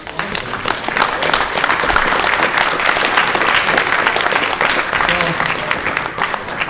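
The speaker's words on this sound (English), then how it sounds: "let's have a round of applause" An induction day audience breaks into sustained applause, dense clapping from a sizeable crowd that holds steady for several seconds without fading.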